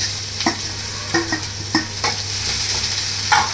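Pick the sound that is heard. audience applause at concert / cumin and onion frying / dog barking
cumin and onion frying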